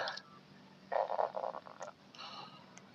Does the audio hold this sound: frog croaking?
yes